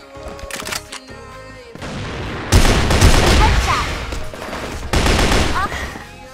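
FN-FAL rifle fire in the shooter game CrossFire: rapid bursts of loud, close gunshots, first sparse, then a sustained heavy volley with explosive booms, under in-game sound effects.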